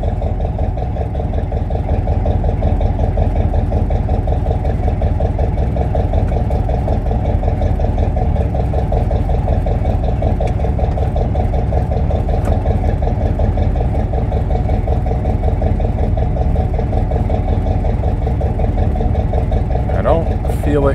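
A 1969 Mercury engine idles steadily after its first start in 16 years, with a loud, close, rough, pulsing rumble that continues throughout under occasional voices.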